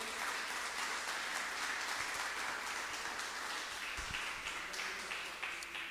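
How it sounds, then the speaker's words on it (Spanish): A church congregation applauding in praise during a worship service, dense sustained clapping heard at a moderate distance, with a couple of soft low thumps. "Dale un aplauso al Señor de alabanza."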